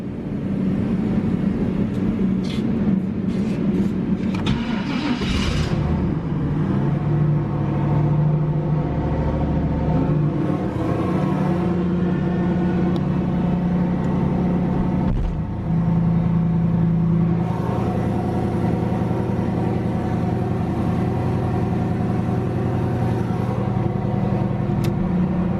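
A Mazda RX-7 engine running after being started, a loud steady rumble with a few rising revs and shifts in pitch, close and continuous throughout.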